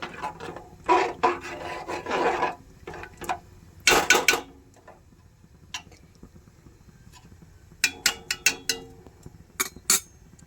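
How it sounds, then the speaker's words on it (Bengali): A metal spoon scraping stuck bits of payesh, a milk-and-rice pudding, off the sides of a cooking pot: bursts of rasping, gritty scrapes and clicks, close and fairly loud, with quiet gaps between them. "এই গায়ে যেগুলো লেগে আছে সেগুলো আমি আস্তে আস্তে করে চামচ দিয়ে ছাড়িয়ে দেব।"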